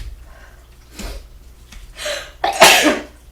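Two sharp sneezes burst out close to the microphone in a quiet indoor room where vinyl records are being discussed. A faint breath comes first, then a smaller sneeze and a louder, longer one.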